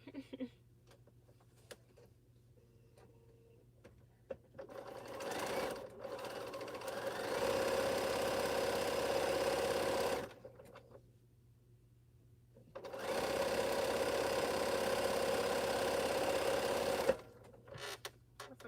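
A sewing machine stitches strips on a quilt, running in two sustained bursts of rapid, steady mechanical whirring separated by quiet pauses, close and clear with no voices.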